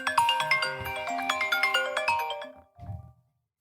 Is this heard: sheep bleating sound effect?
no